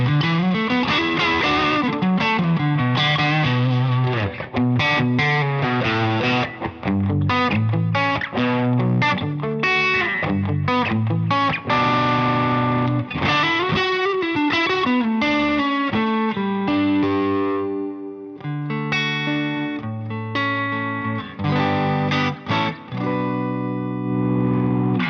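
An overdriven electric guitar plays a lead solo with a delay effect, long singing notes and fast runs sustaining loudly and continuously over about twenty-five seconds, with echoing tails between phrases.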